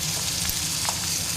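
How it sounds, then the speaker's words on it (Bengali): Onion and tomato frying in a pan for a lentil dish, a steady close sizzle with faint stirring crackles running through the whole short stretch, no voices. "পেঁয়াজ আর টমেটোটা একটু ভাজা ভাজা হয়ে গেছে।"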